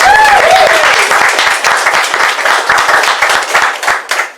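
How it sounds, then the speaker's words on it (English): An open-mic audience gives loud, close applause for Dominic, Marion, Dora and Pat, a thick wash of clapping with brief whoops at the start that tapers toward the end. "one last quick round of applause for Dominic, Marion, Dora and Pat for all of their work in the last 2 years"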